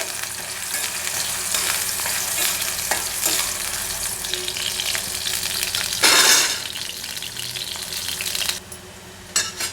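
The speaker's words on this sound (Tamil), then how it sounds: "எண்ணெய் சூடாக எடுத்து இதில் வாழைக்காயும் உருளைக்கிழங்கையும் லேசாக வறுத்து எடுத்துக்கலாம்" Pieces of raw banana and potato fry in hot oil in a kadai, a loud continuous sizzle with stirring scrapes and a brief louder hissing burst before it quiets near the end.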